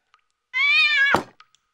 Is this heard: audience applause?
no